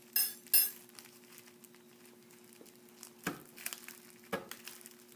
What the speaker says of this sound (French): briser les petites pastilles de vitamine C en se servant de cuillères et d'un sac de plastique